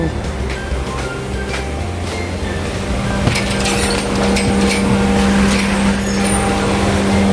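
A car drives along, heard from inside the cabin, with a steady low engine and road rumble throughout and occasional voices.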